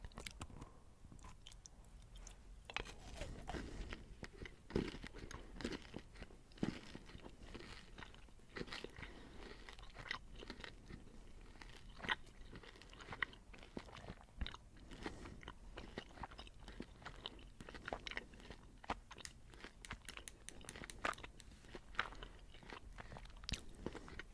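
Close, quiet crunching and chewing of crunchy passion fruit licorice candy from Denmark, with dense irregular crackling bites and munching running continuously, with no voice.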